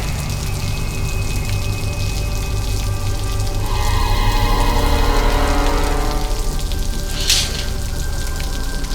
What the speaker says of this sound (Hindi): ये बारिश भी अचानक।